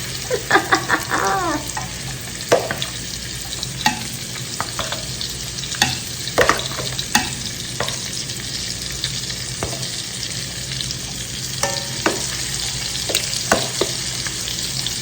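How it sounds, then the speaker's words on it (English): Steady, dense sizzling of salmon and shrimp frying in a hot pan, with occasional clicks and scrapes of stirring, continuous and fairly close. "I'll throw my shrimp in that one. See if we get that sizzle."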